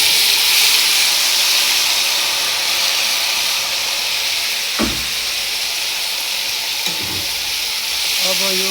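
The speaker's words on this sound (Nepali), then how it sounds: "अब चाहिँ नि गोलभेडा राख्छौँ" Tomatoes frying in a pan for Nepali momo pickle give a steady, close, broadband sizzle with a couple of brief stirring knocks, no talk over it.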